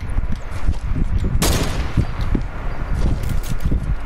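Gunfire from a shooter video game, a rapid run of sharp shots with one loud broadband blast near the middle, set over continuous low game rumble and clutter.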